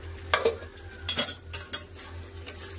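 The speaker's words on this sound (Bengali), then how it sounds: "খুলে ভালো করে চালিয়ে দেবো" A spoon scrapes and stirs masala frying in a pan for matar paneer, with clinks of metal on the pan over a low steady sizzle, close up and with no talk.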